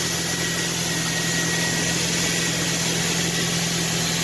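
A 40th Edition Ford Mustang idles steadily at close range, a smooth, even engine drone holding without a break and with no talking over it.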